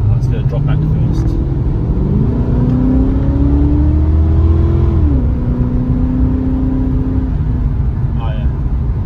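A cammed 5.0 Ford AU Fairlane running a J3 chip tune pulls hard through the gears, heard loud from inside the car. The engine note climbs steadily, drops at an upshift midway, then rises again before easing off.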